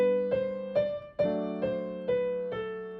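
A piano piece is played with the right hand louder than the left: sustained bass chords under a clear, prominent melody line, with about seven distinct note attacks over three seconds, close and alone.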